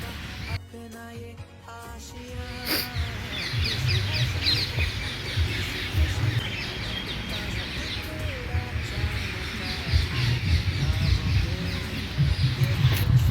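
Many birds squawk and chirp together in a busy, continuous chorus at a bird-feeding shed, with some clattering near the start and faint voices underneath.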